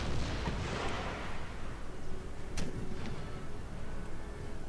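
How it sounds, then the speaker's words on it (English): Artillery fire from a battle in Empire: Total War rumbles as a continuous dull roar of distant cannon, with one sharp crack standing out partway through and a fainter pop after it. "His artillery is doing a good job."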